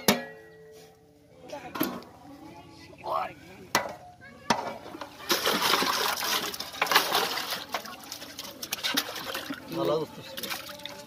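Beef is washed by hand in water during village cooking, with splashing and sloshing, knocks of meat against a pot, and scattered clinks. A person talks intermittently nearby.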